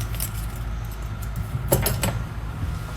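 A set of keys for a 2022 Jayco Jay Flight 267BHS travel trailer jingles briefly in a short metallic rattle close by, over a steady low background hum.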